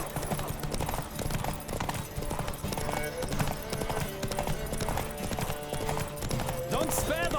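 Rapid hoofbeats of a horse galloping in a race in The Witcher 3 form a steady, driving clip-clop over game music, with voices and an occasional whinny mixed in.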